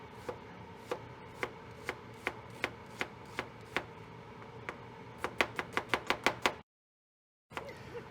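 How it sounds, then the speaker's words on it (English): Knife slicing an onion into thin julienne strips on a cutting board: steady, evenly spaced chops that speed into a quick run of taps before a sudden silence, then a few more cuts. "I was just trying to show y'all, once you get more experience, how fast cutting the onion can be"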